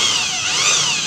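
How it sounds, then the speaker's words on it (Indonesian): A power drill whines steadily and loudly at close range while boring into a car steering part to fit a 14 bolt, its pitch wavering slightly throughout the short burst. "Ini sekarang kita bor dulu ya."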